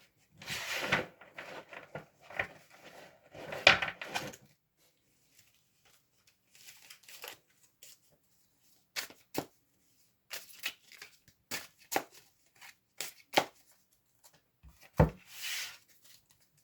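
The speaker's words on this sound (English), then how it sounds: "Alrighty, let's do a quick shuffle," Tarot cards are shuffled in quiet, close bursts, with soft riffles and sharp snaps of the deck separated by short pauses.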